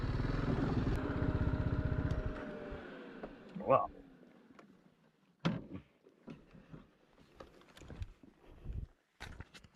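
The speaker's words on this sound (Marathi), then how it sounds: "मी आत्ता ह्या रोडवरून बाईक घेऊन आलो आहे पूर्ण रस्ता दगडांचा आहे" A motorcycle engine rumbles close by for a couple of seconds, then fades into clattering, bumpy knocks and scattered voices as it rolls over a stony road to Kalanandi Fort near Chandgad.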